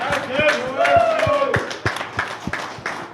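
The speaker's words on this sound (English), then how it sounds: "big round of applause" Rhythmic clapping from a small crowd after a Notre Dame vs Ohio State game, sharp regular claps close by with voices talking and calling out over them.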